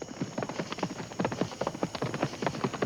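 Horse hooves clip-clop in a fast, steady galloping rhythm, loud and close, used as a sound effect in a spooky story, with no voice over it.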